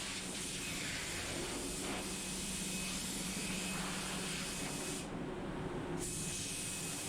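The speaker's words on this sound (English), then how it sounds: "I'm going over this just as a blower, just blow off any dust, any dirt that might have landed on there" An air blower blows dust off a freshly painted candy-paint and tinted-clear surface, producing a steady, loud rushing hiss that drops out briefly near the end before resuming.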